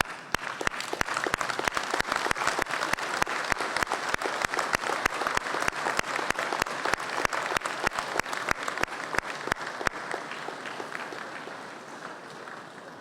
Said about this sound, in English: give them a round of applause for supporting your journey.